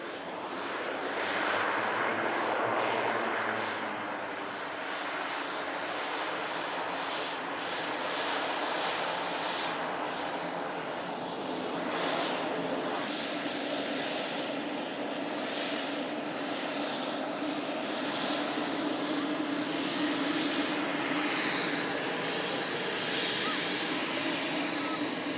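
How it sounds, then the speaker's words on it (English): A Pilatus PC-12 NGX single-engine turboprop airplane drones steadily at an airfield, a loud, sustained engine roar with propeller whine that holds for the whole stretch without clear voices on top. "This is that Silver Aviation Pilatus PC-12 NGX. The latest model of the PC-12."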